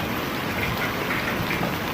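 A dense, steady patter of large hailstones striking surfaces during a severe storm in Pakistan, loud and continuous like a heavy downpour of hail.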